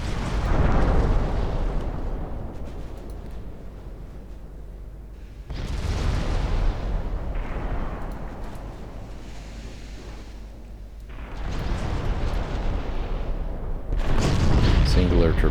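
Heavy naval gunfire and ship explosions in the Ultimate Admiral Dreadnoughts naval game, with 9-inch guns firing on a sinking heavy cruiser: deep booming blasts in several loud waves over a constant rumble, with a voice talking over them.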